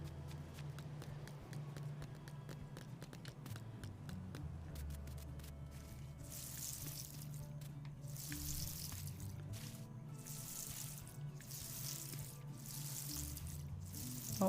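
Crops being watered in a farming video game, with soft splashing and pouring bursts that repeat over a steady low background hum, fairly quiet.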